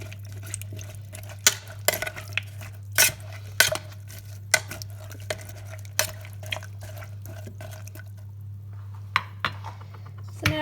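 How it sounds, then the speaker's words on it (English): A spoon clinks and scrapes against the inside of a soup maker while soup ingredients with ground ginger are stirred, with sharp intermittent taps over a steady low electrical hum. "And then we're going to stir this up"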